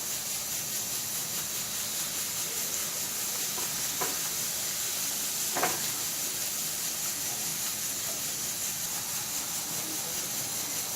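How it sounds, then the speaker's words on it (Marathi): Masala spices roasting in a pan for mutton curry, a steady close sizzle and hiss with two faint scraping stirs partway through. "अर्धा मिनिट साधारण मसाला आपण भाजून घेऊ."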